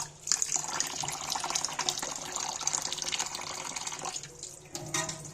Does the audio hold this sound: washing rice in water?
yes